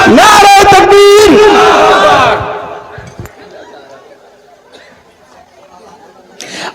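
A large crowd at an Islamic religious gathering in Purba Medinipur, West Bengal, chants loudly in unison for about two seconds as a response to the Nara-e-Takbir call, then fades to sparse faint murmurs and clinks.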